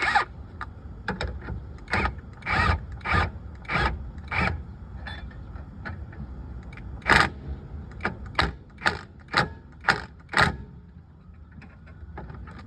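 An impact wrench zaps in the rear brake bolts on a 2007 Hyundai Elantra, heard as a string of short, sharp rattling bursts of varying length, close and fairly loud, with brief pauses between them.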